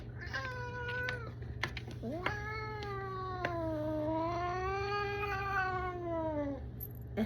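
A cat being gently squished meows loudly and close, one short complaint and then a long drawn-out wavering yowl, over a steady low hum.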